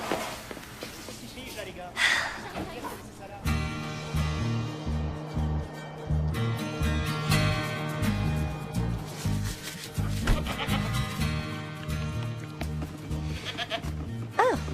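A goat bleats in a French film scene, several short wavering calls sounding over a steady music score, footsteps and people talking nearby.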